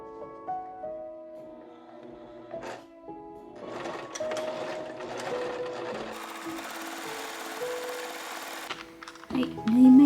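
Domestic sewing machine stitching a 1.5 cm side seam on an apron made from an old bed sheet, bursts of rapid mechanical chatter with pauses and clicks, close and clear.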